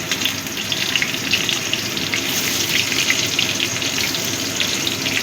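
Pumpkin pieces hit a frying pan and set off a dense, steady, loud hiss of oil that holds evenly without pauses, up close and with no voices.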